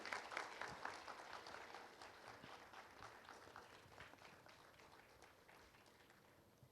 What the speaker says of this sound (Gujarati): ઉપસ્થિત સર્વેને